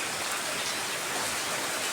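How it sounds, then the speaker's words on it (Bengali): Heavy rain pours steadily over a village on a rainy morning, a dense, even hiss of falling water with no pauses or voices. "আজকে সকাল থেকেই প্রচুর পরিমাণে বৃষ্টি হচ্ছে"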